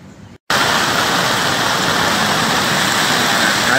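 Floodwater rushes beneath a temple during a flood in Pelaihari, Tanah Laut, a loud, unbroken broadband roar that starts abruptly after a brief quieter moment and holds steady.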